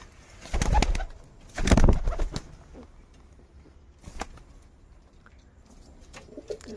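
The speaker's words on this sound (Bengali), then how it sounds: "এই কিং কবুতরটা এর সাথে জুড়ি হয়ে গিয়েছে" A paired king pigeon coos in two loud, close bursts near the start, then softer, scattered calls follow over quiet background rustling.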